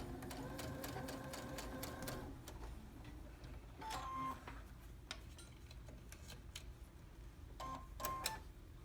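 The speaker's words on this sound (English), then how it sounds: "Just going to stitch right across this triangle right next to my stay stitch line." A domestic sewing machine stitches straight across the small triangle at a tailored shirt sleeve placket, a steady close mechanical whir for about two seconds before it pauses, then a few brief ticking bursts follow.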